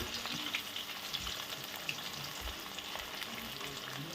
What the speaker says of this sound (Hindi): बीच में आप हाई फ्लेम पे फ्राई करना इसे